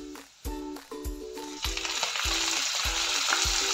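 Fenugreek greens added to browned garlic in a hot pan, loud sizzling that builds into a steady fry, punctuated by repeated knocks and scrapes of a spoon stirring, close up.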